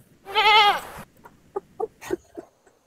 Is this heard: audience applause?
no